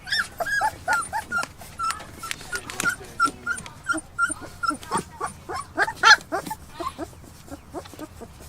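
Puppies whimpering and squealing close by in a rapid series of short high cries, joined by a few small yaps, repeating across the whole stretch without a break.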